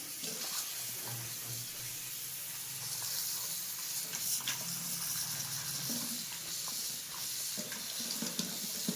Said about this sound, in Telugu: ఇట్లా 2-3 టైమ్స్ అయితే మనం నీట్గా వాష్ చేయాలి వీటిని